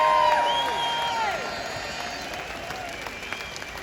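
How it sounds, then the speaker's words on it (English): Crowd at an outdoor street rally applauding and cheering, with whoops and shouts rising over the clapping near the start, then settling into a steady, slightly fading roar of applause. "Let's have a round of applause for her mum and dad as well."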